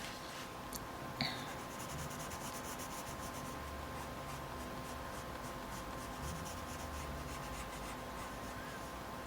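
Soft, steady scratchy rubbing of a colored pencil moving over paper, continuous and close, with a faint click early on.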